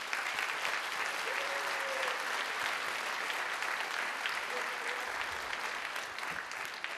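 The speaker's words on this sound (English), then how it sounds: "Let's give them a round of applause, the 8th grade band." An audience gives sustained, even applause for an eighth grade band at a school band festival, a dense wash of clapping that carries on steadily for about seven seconds.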